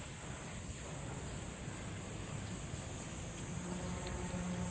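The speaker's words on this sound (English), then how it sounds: "You got that constant buzz of like bugs in the background" Steady, continuous insect buzzing fills the trees of Ritan Park, a high constant drone with light wind noise and no talking, even in level throughout.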